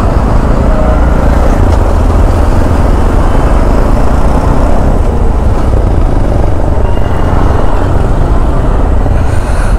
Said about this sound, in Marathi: वरून जरा पुढे आल्यावर पूर्ण ट्रॅफिक जाम लागलाय